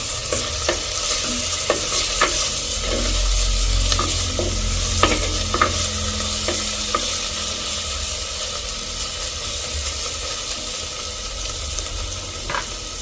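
Small onions and dried anchovies fry steadily in a pan with a constant sizzle, while a spoon scrapes and stirs in repeated sharp clicks close by.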